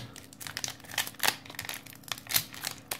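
A Pokémon card booster pack is torn open, its foil wrapper crinkling and rustling close by in short irregular bursts with a few sharper crackles.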